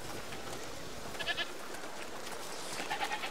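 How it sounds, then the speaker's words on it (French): Goats in A Plague Tale: Requiem bleat a few times at a moderate distance, short wavering calls over a steady rustling ambient bed. "Il y a quoi par là? Des chèvres."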